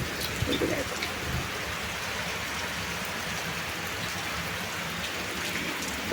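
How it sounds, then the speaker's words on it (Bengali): Steady rain pours continuously outdoors after a storm, a dense even hiss of drops on surfaces with no pauses, loud and close throughout. "বৃষ্টি কমছে না কাল থেকে কন্টিনিউ এরকম বৃষ্টি হচ্ছে"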